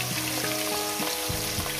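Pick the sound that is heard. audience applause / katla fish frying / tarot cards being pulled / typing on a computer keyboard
katla fish frying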